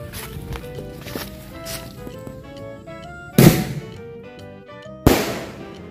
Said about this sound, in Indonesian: kita nyalain mercon Arjuna